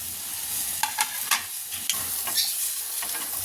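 Spices roasting in a pan with a spoon of oil for a North Karnataka holige kattina saaru: steady close sizzle with occasional scraping stirs against the pan, no voices.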